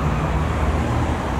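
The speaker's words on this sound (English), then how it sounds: "Apologies for any road noise that intrude into my video." Steady road traffic noise surrounds a parked 2021 Toyota Yaris 1.5 Hybrid Excel, a dense continuous wash of passing vehicles, fairly loud with no voices.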